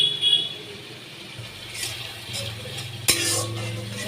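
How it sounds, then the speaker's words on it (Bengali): Ground spices with coriander powder frying in a little oil for a tangra fish and potato curry, a low sizzle with a stirring spoon scraping the pan and a sharp clink near the end. "ভালো করে আমি কষিয়ে নিচ্ছি।"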